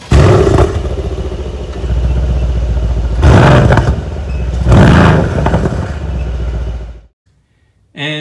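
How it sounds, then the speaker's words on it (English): A Mercedes-AMG C63 S engine revs hard in repeated surges, a deep throaty exhaust roar rising and falling, then cutting out briefly before firing again. "And at number 3, the exhaust. I can never get tired of that sound."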